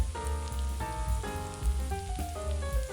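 Red chili flakes or Calabrian chili paste frying in hot oil in a pan, a steady close sizzle and crackle running under tonal music.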